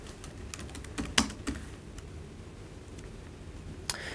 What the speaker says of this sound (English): So I'm going to go ahead and type one in right now.